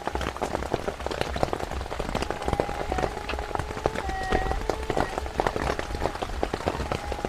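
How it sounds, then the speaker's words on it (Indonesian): Heavy rain pattering steadily on a camping tent, a dense continuous hiss of drops throughout with faint tonal sounds in the background. "Kalau hujan makin lama makin lebat aja nih teman."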